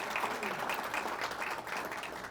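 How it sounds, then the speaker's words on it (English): A ceremony audience gives a closing round of applause for honorees, a steady wash of many hands clapping at moderate volume with no speech over it. "I'd like to ask for one last round of applause for our honorees today"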